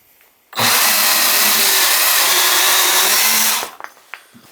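A Milwaukee 12V compact electric chainsaw cuts into wood with its spike pressed against the log, a loud close whining buzz that starts abruptly, holds steady for about three seconds, then stops, followed by faint handling noises.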